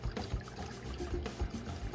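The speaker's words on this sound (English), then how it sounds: "I'm just going to scoop a little bit of water up" Water scooped into a Tupperware container at an outdoor guppy breeding pond, a steady close sloshing and pouring with small splashes and trickles.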